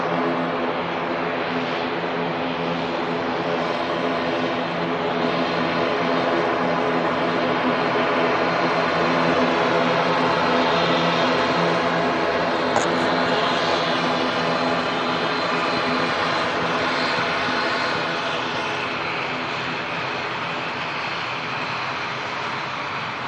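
Airliner jet engines roar steadily at Manchester Airport as an aircraft taxis out, a loud continuous drone with layered tonal hum, close and alone with no talk.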